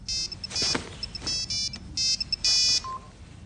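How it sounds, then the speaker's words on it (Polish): A mobile phone rings with a bright electronic ringtone, repeating short melodic bursts in a quick, even rhythm, close and clear with no talk over it. "Telefon Louisa"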